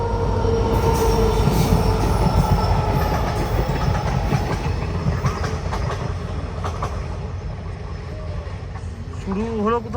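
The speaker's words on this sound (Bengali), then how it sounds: "ট্রেন যাবে দেখি।" A train rumbles past close by with steady loud rolling noise, clattering wheels and squealing metal that fades slightly toward the end, with voices audible beneath.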